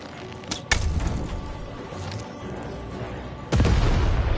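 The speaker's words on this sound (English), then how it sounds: "button to fire the cannon" Cannon fire from the video game Lost in Random: deep booming blasts, one sharp hit near the start and a heavier sustained boom toward the end, over a low rumbling game soundtrack.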